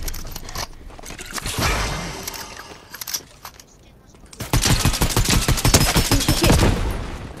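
Fortnite gunfire, loose bursts of rapid shots crackling in two busy clusters with a lull between, loud and close, mixed with game effects and players talking over it.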